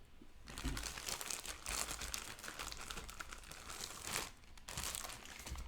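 Game cards pulled from a crinkly plastic bag while unboxing a JLU starter set, with loud, close, continuous crinkling and rustling that dips briefly twice and carries no talk.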